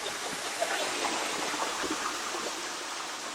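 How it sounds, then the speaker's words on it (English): Steady broadband rush of flowing water beside a lake, a continuous close wash with no distinct splashes and no voices. "it's nice to hear water"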